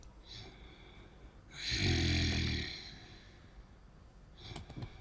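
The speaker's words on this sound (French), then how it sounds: "il est là ronflé dans le canapé" A man snoring on a couch gives one long, deep, rattling inhale that swells and fades, followed by quieter breathing and faint rustles.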